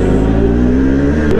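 A Yamaha R6 motorcycle engine revs in a loud, steady, buzzing drone that holds close and unbroken throughout.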